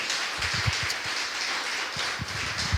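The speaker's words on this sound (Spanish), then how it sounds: "Denle un aplauso al Señor" Dense clapping from a church congregation, a steady crackling wash of many hands applauding together, fairly close and sustained.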